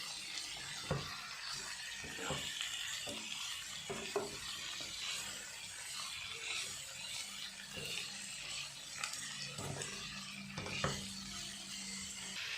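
Koldil, a banana flower dish, being stirred in a cooking pan, soft scrapes and taps of the utensil over a low, steady sizzle, faint and without talk.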